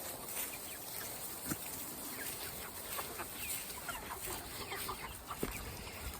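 Chickens cluck and murmur around a yard in a steady scattered chorus, with a few sharper calls standing out among the soft ongoing chatter.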